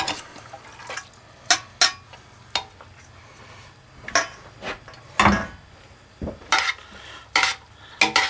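Green spaghetti noodles being tossed with sauce in a pan, producing a series of scattered clattering scrapes and soft wet stirring sounds from utensils against the pan, close and fairly loud with brief pauses between them.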